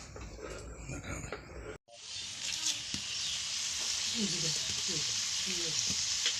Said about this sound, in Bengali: তেল দেওয়ার পরে এই যে আটাগুলো এগুলো পাঠিয়ে দিব